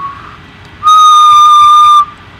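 A person whistles a steady, high pure tone into a microphone, held for about a second at loud level and ending abruptly.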